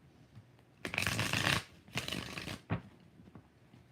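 Tarot cards being shuffled up close: two long riffling bursts followed by a quick short riffle, crisp and loud against a quiet room.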